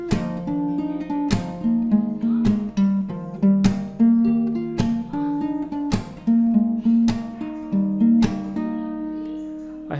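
Full intro of a song on acoustic guitar: plucked melodic notes punctuated by regular percussive slaps, about eight strong accents, played close and alone.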